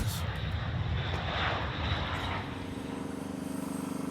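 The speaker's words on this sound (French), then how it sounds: "L'avion de transport A400M les suit à chacune de leurs escales" A400M military transport aircraft engines roaring with a dense, throbbing drone, loud at first and settling into a steadier, slightly quieter hum after a couple of seconds.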